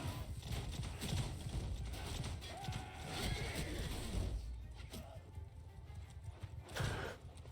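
Cavalry horses clip-clopping across a battlefield in Bannerlord with The Old Realms mod, a dense continuous patter of hooves under general battle noise, fairly faint, with a voice talking over it.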